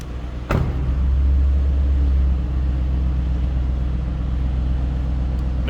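A 2008 Ford Mustang Bullitt engine is heard under throttle, a close, deep, steady rumble that swells after a sharp onset and then settles to a constant low drone.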